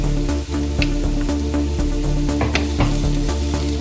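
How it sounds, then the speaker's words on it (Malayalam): Ground onion and ginger paste sizzles loudly in hot oil for a Kerala-style spicy beef fry, a dense continuous frying hiss with occasional stirring clicks and scrapes close up. "ഇനി ഞാൻ നേരത്തെ അരച്ച് വെച്ച പേസ്റ്റ് ആഡ് ചെയ്ത് കൊടുക്കാൻ പോകണം."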